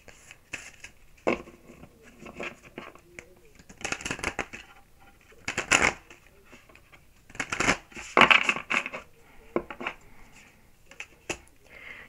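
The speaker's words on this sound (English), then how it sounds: "Now let's pull three of these cards to see more for Aquarius." Tarot cards are shuffled and drawn in soft, irregular bursts of papery riffling and flicking, close and moderately loud, with quieter rustling between the louder shuffles.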